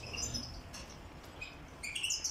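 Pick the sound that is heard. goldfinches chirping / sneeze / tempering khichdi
goldfinches chirping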